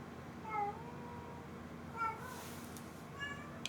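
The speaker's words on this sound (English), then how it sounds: "I know you're in heat. You don't have to meow at me." A female cat in heat meows three times, spaced about a second and a half apart, faint and fairly close against a steady low room hum.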